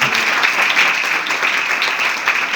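Steady, dense applause from a church congregation clapping loudly for the Lord during a sermon, sustained and even throughout with no breaks.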